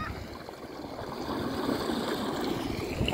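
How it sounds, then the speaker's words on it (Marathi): Water rushing steadily along a canal in the evening, a broad continuous wash heard close and fairly even, with no talk over it. "आणि भरपूर असा पाणी आलेला आहे।"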